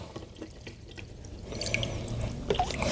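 Water and small fish poured from a little container into an aquarium, a soft splashing pour that builds after a quiet start and runs steadily to the end, close by.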